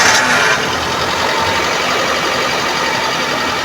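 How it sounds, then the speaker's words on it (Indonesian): A 2012 Suzuki Carry Futura pickup truck engine idles steadily with a low, even rumble, close by, with no voices. "Ini suara mesin stasioner ya."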